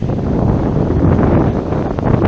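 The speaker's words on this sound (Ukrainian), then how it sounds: "це вітер" Steady wind buffets the microphone in a wheat field in the evening, a dense, roaring rumble that holds loud and unbroken throughout.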